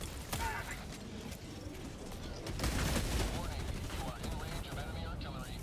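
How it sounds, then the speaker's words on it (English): Artillery fire in the video game Helldivers 2, a dense run of booming blasts and crackling gunfire across a busy battlefield, with a voice talking over the chaos. "Oh, this artillery, man."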